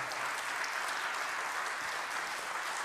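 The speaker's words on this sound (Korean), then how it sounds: "따뜻한 박수 부탁드리겠습니다." Steady, dense audience applause after a traditional Korean court-music ensemble performance at a 2020 baroque music festival, continuous clapping heard from a distance with no voices.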